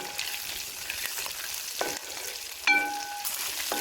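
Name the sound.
shallots roasting in a pan for beef fry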